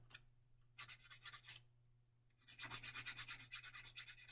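A plastic part from a 1/32 scale Volkswagen Beetle model kit is sanded by hand in two bursts of rapid, rhythmic rasping strokes, close and quiet, with a brief pause between them.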